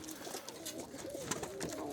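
Birmingham Roller pigeons coo in soft repeated throaty calls, close by and fairly quiet, with overlapping bird voices and light background noise.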